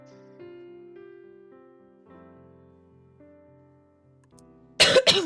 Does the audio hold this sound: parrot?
no